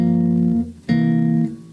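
Sustained, warm electric bass notes change pitch twice, playing a 2-5-1 chord progression, close and clean with no talking.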